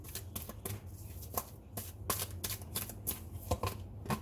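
Close, soft rapid riffling and flicking of a deck of tarot cards as they are shuffled and drawn, a dense papery patter with brief pauses and no talk.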